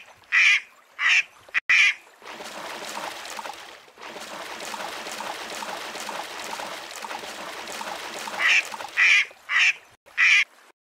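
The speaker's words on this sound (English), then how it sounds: "D is for duck." A duck quacks in two groups of sharp, loud calls, three quacks at the start and four near the end, separated by a long stretch of softer rustling noise.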